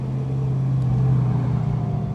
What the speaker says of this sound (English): that engine sounds great too